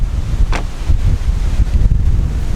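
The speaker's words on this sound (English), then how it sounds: "So it's still quite windy" Strong wind buffets the microphone in continuous low rumbling gusts, loud and close, with no voices.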